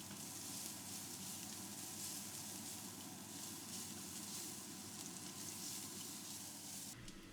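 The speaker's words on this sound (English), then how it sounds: "heat some vegetable oil in another pan on medium, add the minced garlic, and sauté until fragrant" Minced garlic sautéing in vegetable oil over medium heat in a pan, a steady dense sizzle and crackle that holds at an even level throughout, with a brief change near the very end.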